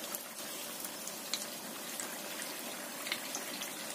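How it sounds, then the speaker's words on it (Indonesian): Snacks fry in hot oil with a steady, soft crackling sizzle and scattered little pops, heard at close range and without any talking. "Goreng sampai kuning keemasan."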